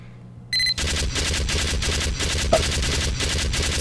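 Sentry turret gunfire in Team Fortress 2, a sustained rapid rattle of shots that starts abruptly and keeps a steady pulsing rhythm, loud and close, with no talk over it.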